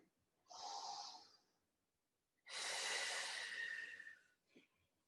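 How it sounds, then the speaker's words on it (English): Two deep breaths during an advanced exercise workout: a shorter inhale followed after a pause by a longer, louder airy breath, close to the mic with no talking. "Take a nice big breath."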